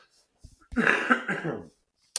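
A single raspy cough bursts out close by, a short throaty sound with a rough, breathy edge, preceded by a couple of faint clicks.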